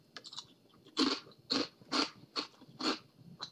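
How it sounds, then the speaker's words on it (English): Close, crisp crunching as someone bites into and chews a snack from a Universal Yums November 2019 subscription box, with five or six loud, evenly spaced crunches and softer chewing between them. "You probably hear me crunch in that one."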